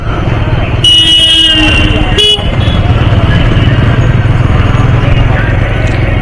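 Heavy traffic jam on Andul Road, with loud close car and motorbike engines and a long horn blast followed by a shorter toot, under a constant road rumble.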